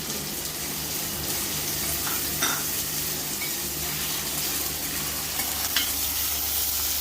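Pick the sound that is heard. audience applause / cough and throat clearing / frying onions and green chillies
frying onions and green chillies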